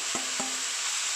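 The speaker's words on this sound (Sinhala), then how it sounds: "දාලා මේක තවත් පොඩ්ඩ වෙලාවක් කලවම් කරගන්න." A spoon stirs banana blossom curry in a pan, with two soft scraping strokes over a steady, gentle sizzle of frying; close and fairly quiet, with no voices.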